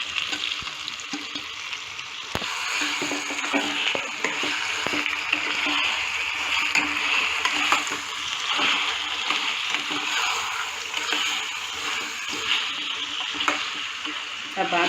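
Marinated chicken goes into hot oil fragrant with curry leaves and is stirred in a frying pan, giving a loud, continuous sizzle with scraping and splattering that carries on for the whole stretch.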